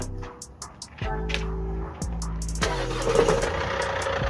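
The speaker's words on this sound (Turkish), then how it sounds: "Tek marş çalıştı zaten araç." A Mercedes Vito van engine catching on the first crank: a short starter whir, then the engine fires and settles into a steady mid-pitched idle, close by with no talking.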